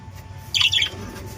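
Budgerigars kept as pets let out a brief, bright burst of chirping, a quick cluster of high twittery notes over a faint, quiet background.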